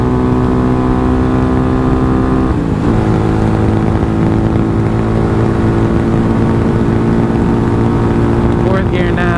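Engine of a Suzuki DF250RTS motorcycle pulling uphill in fourth gear on a highway, a loud continuous droning hum with strong wind buffeting throughout and a brief shift in pitch partway.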